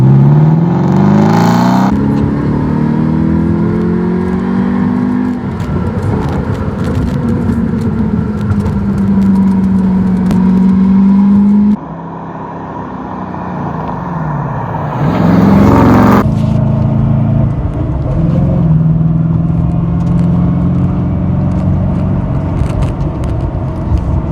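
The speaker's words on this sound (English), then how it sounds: "it's almost comical to me how much throttle I've been using so far to keep up with traffic." A Revology Boss 429 Mustang engine drones and rises in pitch as the car accelerates through traffic, with repeated gear-change dips and steady close-up road and engine noise throughout.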